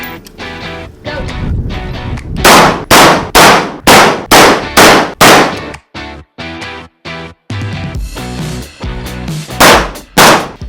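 AR rifle gunshots during a timed spot-shooting drill, a rapid string of loud, sharp reports in quick rhythmic succession with ringing clangs and brief pauses between bursts.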